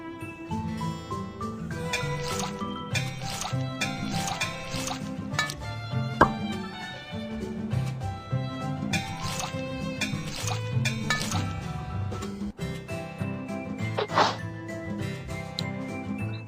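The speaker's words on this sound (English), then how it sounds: "Put cooked pearls in ice water to make them even more chewy." Cooked tapioca pearls drop into ice water in a cartoon ice cream truck cooking game, making repeated bright drips and plops over cheerful background music.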